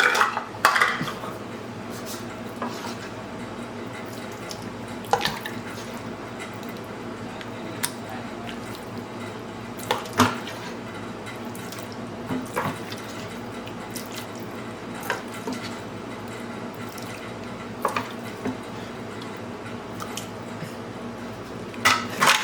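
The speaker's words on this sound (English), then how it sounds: "I'm gonna do my best to measure out 6 cups and get it put in this pan." Thick, gelatinous homemade chicken broth being measured and poured into a pan, with dishware clinks and wet sloshing, squishing sounds recurring through a steady kitchen background.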